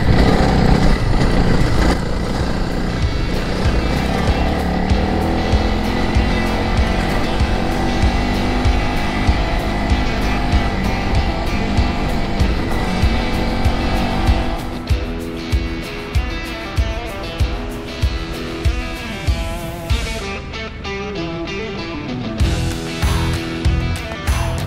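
Adventure motorcycle engine labouring up a steep dirt hill on a ghost-town trail ride, a loud steady drone that drops into rhythmic pulsing chugs midway, then quieter revs near the end.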